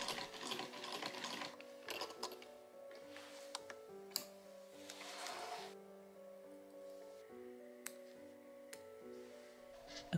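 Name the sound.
sewing machine stitching skirt side seams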